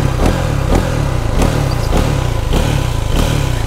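A motorcycle engine pulses loud and close, revving in regular surges roughly every half second during wheelies, with no voices.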